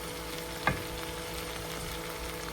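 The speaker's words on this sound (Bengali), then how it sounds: "দেখুন শুটকি ভাজাটা আমার প্রায় হয়ে গিয়েছে।" Dried fish (shutki) fries in a pan with greens, giving a steady soft sizzle throughout and one brief clink of a utensil near the start.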